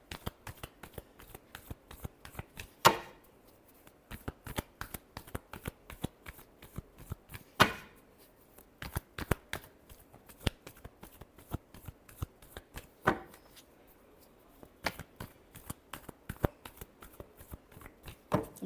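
Tarot cards shuffled by hand up close: a fast, continuous run of crisp riffling clicks with a few louder snaps as the deck is squared, with hardly any talk.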